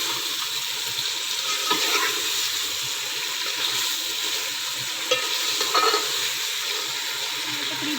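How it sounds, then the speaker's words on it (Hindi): Beef pieces sauté in oil in a pot for nihari, giving a steady moderate sizzle with intermittent spoon scrapes and stirring knocks, close and unbroken by talk. "अभी हमारी ये पहले गोश्त की अच्छी तरह भुनाई होगी।"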